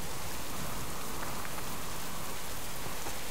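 Steady, loud rain in the video game Subsistence pours down as a dense, even hiss of drops hitting surfaces, continuous throughout with no talking.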